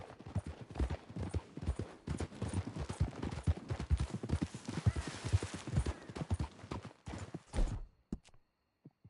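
A horse's hooves clip-clop in steady, quick rhythm in the Red Dead video game, close and clear, with occasional snorts, before the hoofbeats stop near the end.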